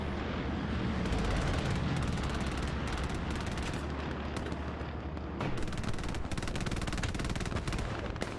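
Sustained machine gun fire from an MG nest in the game Hell Let Loose, dense rapid bursts rattling continuously and loudly with overlapping gunfire and no talk.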